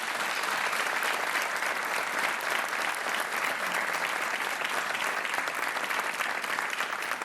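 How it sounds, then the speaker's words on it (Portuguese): A studio audience on the RTP 1 Joker quiz show applauds a contestant, an even, continuous wash of clapping held at moderate level throughout with no voices over it. "mais um aplauso para a Joana Gorni"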